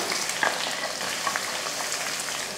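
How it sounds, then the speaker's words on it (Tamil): Onions and curry leaves sauté in hot oil with a bright, close sizzle, a constant hiss dotted with scattered crackles and pops at moderate loudness. "வெங்காயத்தை நல்லா வதக்கிடுவோம்"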